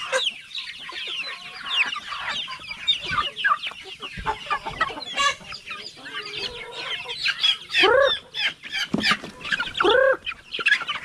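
Many chickens cluck and squawk busily, close and loud, with overlapping calls from a mixed flock of chickens and geese.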